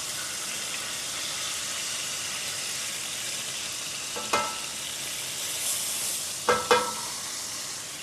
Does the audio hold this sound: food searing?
yes